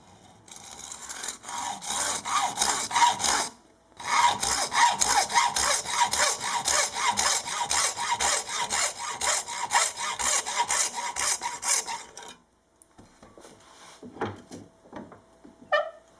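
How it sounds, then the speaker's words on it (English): A hacksaw cuts through a guitar fretboard during a refret, giving close, steady back-and-forth rasping strokes with one short pause partway and the sawing stopping before a few light handling knocks at the end. "I'm just going to use the hacksaw for this."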